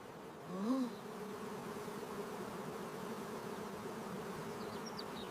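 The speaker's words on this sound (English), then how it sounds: "Look at the busy bees." Bees buzz in a steady, droning hum that stays level and faint throughout, with one closer insect swelling briefly near the start and no voices present.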